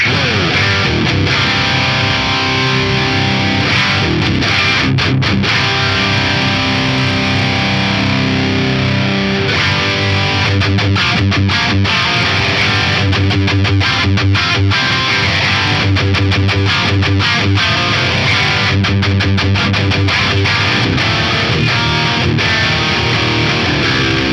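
Electric guitar played through an Axe-Fx III modeler with a drive effect raised, giving a loud, saturated, continuous distorted tone with sustained chords and rhythmic choppy stops throughout, no talking.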